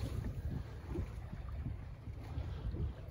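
A sailboat moves steadily through water under wind, giving a low constant rush of wind and hull wash with gentle swells, close to the microphone and free of talk.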